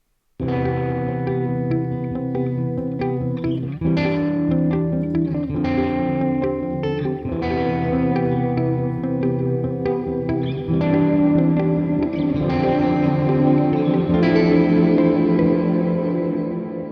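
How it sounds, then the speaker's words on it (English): Sustained, layered tones bathed in a lush, long-decaying reverb from FL Studio 21's LuxeVerb plugin, notes blooming and washing into one another without pause. "A very lush sounding reverb."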